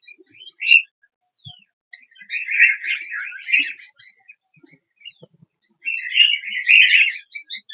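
Cockatiel chicks give bursts of high, thin chirps in short clusters separated by silent gaps, close by and moderately loud.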